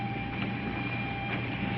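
A steady, continuous rumble of a moving train heard from inside a passenger carriage, with a constant low drone and faint rattling throughout and no voices.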